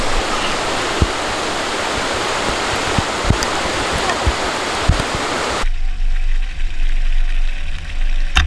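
Pole Blue Falls, a waterfall in the snowy Barrington Tops, gives a loud, steady rushing roar of falling water for several seconds, then cuts to a quieter low hum with faint rumble.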